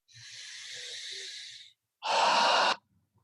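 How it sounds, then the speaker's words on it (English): A slow, healthy, open breath is taken close to the microphone: a long airy inhale, a short pause, then a louder, fuller exhale, with no talking. "now I'm going to do a healthy breath, and hopefully you'll be able to tell from the sound."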